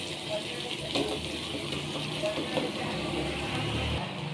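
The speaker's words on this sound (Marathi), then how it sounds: "मसाले परतल्यानंतर आपण यामध्ये आता पाणी टाकू" Water splashes and gushes steadily into sautéed, oily spice masala in a pan while cooking patwadi rassa; there may be faint talk underneath.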